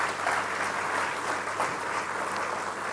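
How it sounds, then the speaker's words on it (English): Steady applause from an audience at a football awards ceremony fills the room, a dense, continuous patter of clapping that holds evenly throughout with no talking over it. "So I will ask you for one applause only for everyone who is here,"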